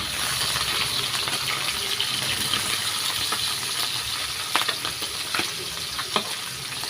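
Tinapa, smoked milkfish, frying in a pan, giving a steady dense sizzle throughout with occasional small pops and crackles, close and continuous, no talking.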